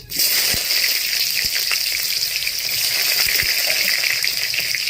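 Chopped onion dropped into hot oil already tempered with cumin seeds, bursting into a loud, steady sizzle that holds for several seconds, with a few soft clicks from the pan and no talking.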